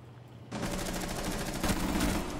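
Gunfire in a first-person shooter video game, a quiet lead-in then a sudden sustained burst of rapid shots lasting about two seconds, no talk.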